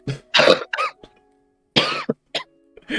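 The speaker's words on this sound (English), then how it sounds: "I do this wheezing thing and coughing a lot" Several rough, close coughs from a person with bronchitis in quick bursts, separated by short silent pauses, with a few smaller hacking coughs near the end.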